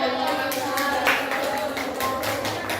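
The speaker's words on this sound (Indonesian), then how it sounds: "Beri tepuk tangan." A classroom of pupils claps together, a dense burst of hand claps with sharp individual slaps standing out, fairly close and continuous for a few seconds with faint voices underneath.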